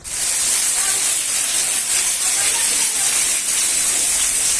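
Heavy rain pours steadily in a Punjabi village during the rainy season, a loud, continuous broadband hiss that holds evenly without a break and has no talk over it.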